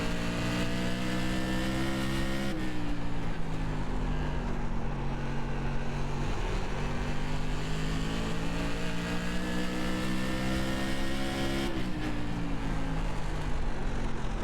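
Tour Modified race cars lap Thompson in iRacing, a loud sustained engine drone whose pitch shifts with gear changes and throttle, alone with no talk.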